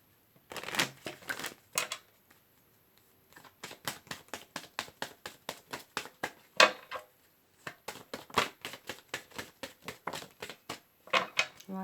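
Rapid riffling and snapping of tarot cards in repeated bursts, each shuffle a quick flurry of slaps, with short pauses between rounds; close and fairly quiet.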